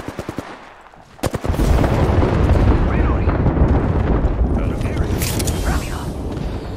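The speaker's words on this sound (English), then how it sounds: "People shooting from over here." Dense rapid gunfire in a shooter video game, bursts of automatic fire and shots running continuously and loud after a brief lull, with voices talking over the action.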